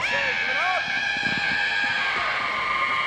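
A female wrestler shrieks in pain during a women's extreme wrestling match, with high wavering cries over a loud, steady crowd and arena din while a commentator talks.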